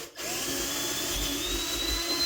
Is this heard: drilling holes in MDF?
yes